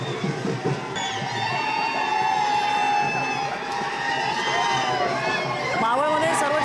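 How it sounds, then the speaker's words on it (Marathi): Party workers celebrate an election win in Maval with a steady roar of crowd cheering and shouting. Voices whoop and call out continuously, some high and drawn out, at moderate distance. "अजित पवार यांचे फोटो घेऊन इथे कार्यकर्ते जल्लोष करताना दिसतात।"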